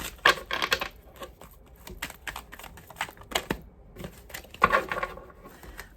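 Tarot cards being shuffled by hand, a run of crisp rapid riffling clicks and flutters with two sharper snaps, close and moderately loud with no talking.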